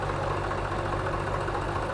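A Swaraj 744 FE tractor engine idles steadily at close range, a continuous low, even rumble with no talk over it.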